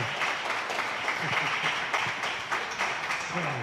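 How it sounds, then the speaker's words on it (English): An audience at a town hall event claps in a steady, fairly quiet round of applause, dense and even throughout with no voices standing out. "Everybody, Ann Bolin, one more round of applause for her, please."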